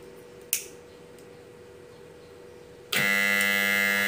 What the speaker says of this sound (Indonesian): Ansul sedang alarm, sedang bekerja.